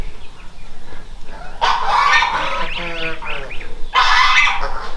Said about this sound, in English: got some goslings down here at the rice factory